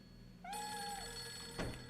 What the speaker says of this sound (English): Ray, sorry, but would you mind answering the phone?